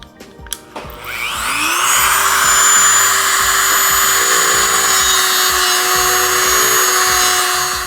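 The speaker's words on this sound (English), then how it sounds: "gonna have to get the Dremel and make this hole just a little bit bigger" A Dremel rotary tool spins up after a few clicks and then grinds steadily with a high, loud whine, enlarging a hole in part of an off-grid camping solar power station.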